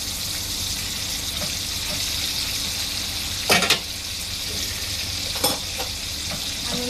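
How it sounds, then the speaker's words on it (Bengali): Spice-coated tangra fish fry in hot oil in a pan, a steady loud sizzle running throughout, with two brief sharper bursts of crackling and clatter partway through and no talking. "এখন ট্যাংরা মাছের মশলা মাখানো ট্যাংরা মাছগুলো আমি দিয়ে দিব তেলে ভাজার জন্য"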